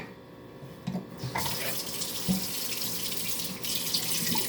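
Water runs steadily from a kitchen sink tap, a continuous splashing stream that stays close and fairly loud throughout, with a few brief knocks and clatters of cleaning up, and no talk.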